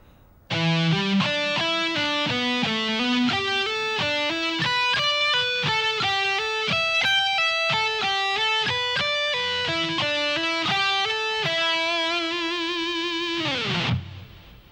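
An electric guitar with a distorted tone plays a slow pentatonic sequence of sustained single notes, loud and steady, ending on a held note that fades.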